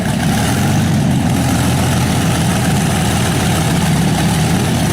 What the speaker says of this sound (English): Packard-Bentley engine